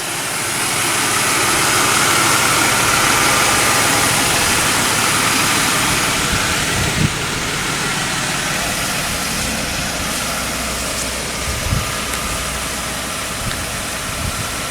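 Jaguar S-Type engine idling with the hood open, a steady, even hum with a broad hiss running unbroken and fairly close, slightly softening partway through, with a few faint clicks.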